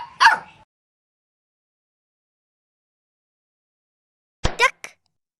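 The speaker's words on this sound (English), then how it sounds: "Dog." A short dog bark opens, then silence, followed later by a quick pair of sharp yips.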